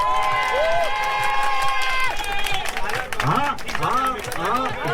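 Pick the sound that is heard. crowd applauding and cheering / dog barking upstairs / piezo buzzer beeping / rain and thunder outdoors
crowd applauding and cheering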